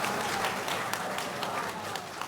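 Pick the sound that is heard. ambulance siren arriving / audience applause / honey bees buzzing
audience applause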